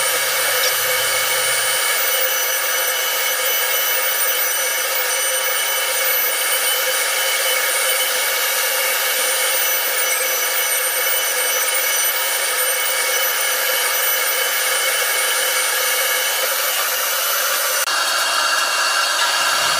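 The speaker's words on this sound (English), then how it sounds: "It's called a Robo Sander, and it works like a router with a bearing template guide on it, but instead of a router, it's a sander." Robo Sander, a template-guided sanding drum working like a router, shaping control, switch and pickup cavities in a guitar body; a steady, loud high-pitched whine runs unbroken throughout with no talk.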